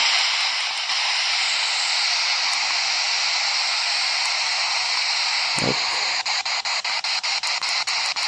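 A switched-on baby monitor gives off steady static hiss that fills the whole stretch at an even level, with a brief crackle in the middle and a run of small regular clicks near the end.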